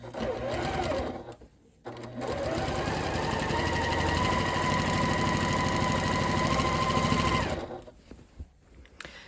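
Sewing machine stitching wavy quilting lines with a walking foot, a steady loud mechanical whir running nearly continuously, with a brief pause near the start and the motor stopping toward the end.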